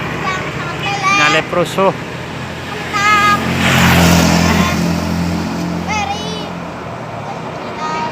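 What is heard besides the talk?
bus overtaking on the road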